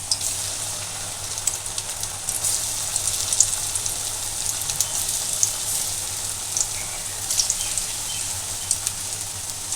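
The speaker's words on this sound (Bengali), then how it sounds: "আমি বড়াগুলো এবার ভেজে নেব, একে একে ছেড়ে দেব।" Jackfruit fritters frying in hot oil on medium heat, a bright crackling sizzle with scattered pops running continuously, close by and moderately loud, no voices.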